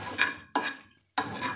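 Soya chunks are fried and stirred in a pan, heard as three separate bursts of scraping and rattling from the utensil moving against the pan, broken by short silences.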